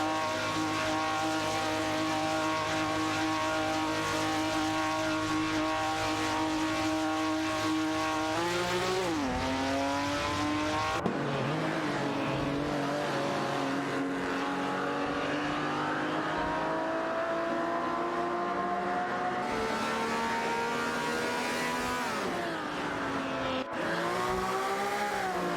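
Race car engines in a racing video game drone loud and steady, with several cars' tones layered, pitches sweeping up and down through gear changes as the pack jockeys closely for position, no voices.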